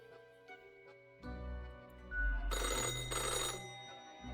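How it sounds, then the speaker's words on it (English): An old telephone in the video game Death and Taxes rings with a harsh metallic bell clatter, which builds out of a soft, tonal game soundtrack and peaks loudly for about a second before fading. "the phone rings with an ears-piercing metallic clatter"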